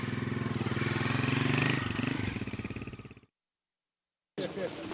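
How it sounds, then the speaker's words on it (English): A motorcycle engine roars close by with a pulsing, buzzy rhythm, then cuts out abruptly; after a gap the engine noise resumes. "Big time motorcycle coming through."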